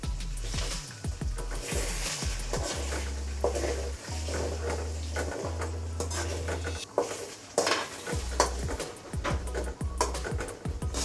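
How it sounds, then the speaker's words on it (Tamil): Five cracked eggs are stirred in hot oil with a ladle as they scramble: repeated metal scrapes and clacks against the pan over a low sizzle, close and busy, with occasional heavier knocks and no talk. "முட்டையை உடச்சி ஊற்றிட்டு கரண்டியில் கிளறி விடுங்க"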